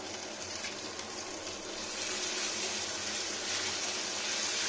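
Paneer, boiled potato and vegetables with salt and green chili fry in a pan, making a steady, moderately loud sizzle and hiss that swells a little toward the end, with no one speaking.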